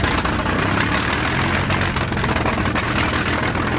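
A 27-litre, 1,300 horsepower World War II V12 engine running loud and close, a dense continuous roar with deep low rumble and no pauses.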